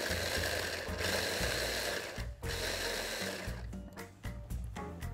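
Black truffle and anchovies being ground for spaghetti, a continuous close rasping, mechanical grinding that runs steadily before breaking into short choppy bursts toward the end.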